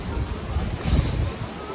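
Strong wind blowing across a Walt Disney World resort waterfront before a storm: a loud, steady rush with heavy buffeting on the microphone, continuous throughout.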